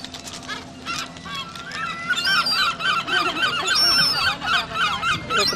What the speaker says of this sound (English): The seagulls are huge.